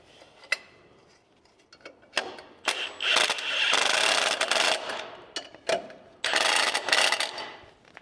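Ratchet socket wrench clicking in bursts while working on a Jeep suspension, with sharp metallic ratcheting runs and taps, close and moderately loud, no talking.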